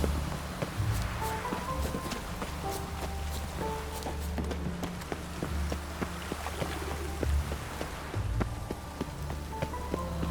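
Steady rain patters over a town in The Witcher 3, a dense even hiss with scattered droplet ticks and faint footstep-like knocks throughout, no voices.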